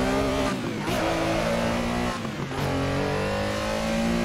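A Porsche 911 RSR race car engine in a racing game drones loud and steady, with brief dips and sharp jumps in pitch as it shifts down into first gear for a hairpin, up close with no talk.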